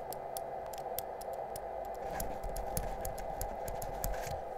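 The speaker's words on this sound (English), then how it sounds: "That's the sound of the loose battery." Loose battery inside a small device rattles in quick irregular ticks and clicks, faint and close, over a low steady background hum with no voices.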